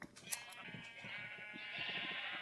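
Sheep in the Minecraft video game bleat in several short overlapping calls, a wavering nasal cry rising and stretching out near the end, fairly quiet against a faint background.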